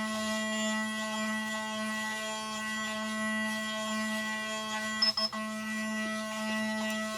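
Electric facial cleansing brush on its turbo setting, worked under the chin, giving a steady close tonal buzz with a strong low hum and stacked harmonics that holds level throughout, with a brief rattle near the end.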